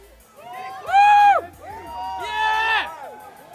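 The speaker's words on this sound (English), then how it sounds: "Nate, listen to this crowd." An arena crowd at a UFC press conference in New York for Nate Diaz vs Jorge Masvidal cheers and shouts in two rising swells, with loud voices whooping over the din.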